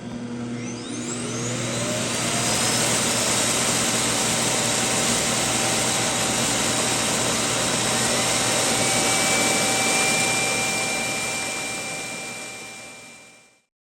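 A Roborock Q7 Max+ robot vacuum's self-emptying station runs as a loud, steady suction roar with a rising whine at start-up and a slow fade at the end, close and continuous with no talking.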